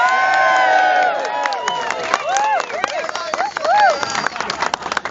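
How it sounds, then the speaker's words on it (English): Cheering and whoops from a crowd at an outdoor political rally for the speaker's wife Therese, with many overlapping voices rising together, loud and close, and several bursts of shouting and calls through to the end. "Give Therese a cheer."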